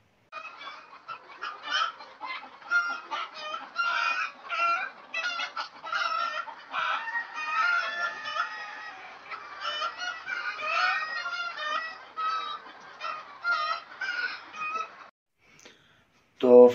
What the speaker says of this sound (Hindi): तो सबसे पहले तो मुर्गियों के हवाले से हम आपको बताते चलें कि गोल्डन मिस्री मुर्गियाँ हैं